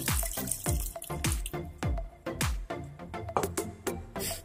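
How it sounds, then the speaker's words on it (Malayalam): Water poured into a simmering chicken curry in a clay pot, an uneven series of close splashing, trickling pulses over background music, with no talking. "അപ്പോൾ കുറച്ചും കൂടെ വെള്ളം ഒഴിച്ചു കൊടുക്കാം."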